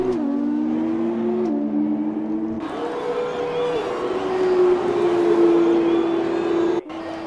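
Race car engines whine and shift pitch in an F2 session of a Formula racing video game at the British GP, a steady high engine tone rising through gears, with commentators talking over it.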